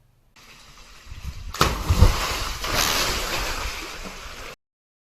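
A person dives into the sea in Croatia, a sharp splash followed by a few seconds of sloshing, churning water close by, with no voices.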